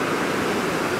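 White River Falls in the Pacific Northwest roars as a steady, broadband rush of falling water, close and continuous with no voices over it.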